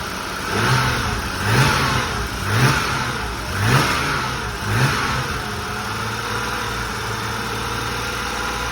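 A car engine running a too-rich fuel mixture, warming up from cold: five sharp revs about a second apart rise over a steady idle, then it settles into an even, continuous idle, close and fairly loud.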